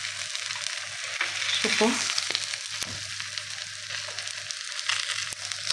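Fish fries in ghee with a steady close sizzle and crackle and a few stirring scrapes, while a voice briefly speaks.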